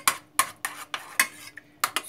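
A spoon clinks rhythmically against a bowl while purslane is stirred into homemade yogurt, about eight quick, bright taps close up with short pauses between them.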